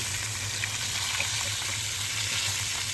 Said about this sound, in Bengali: চুলার জাল মিডিয়াম আছে রাখবো তাইলে মাছগুলো সুন্দর করে ভাজা হইবে